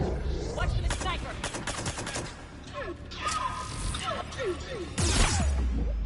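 Sniper gunfire in the sci-fi action game Mass Effect, with sharp shots and mechanical clatter in a loud battle mix, including a heavy blast near the end.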